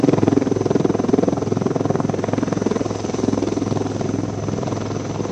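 An HAL Prachand light combat helicopter of the Indian Air Force roars at its induction in Jodhpur, a loud, close, continuous rotor thumping with a fast, even pulse throughout.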